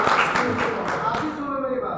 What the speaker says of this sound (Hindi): ताली सर